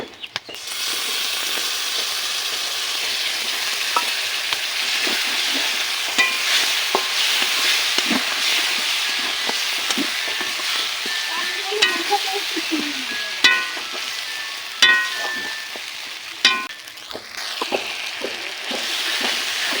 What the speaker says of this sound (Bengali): মশলা ভালো করে ভেজে নিয়েছি